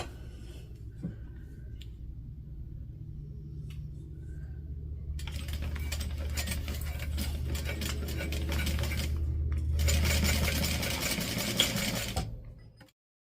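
A sewing machine basting along the curve of a fabric bag, its needle running in quick steady bursts that grow louder in the second half, with brief pauses between stitching runs.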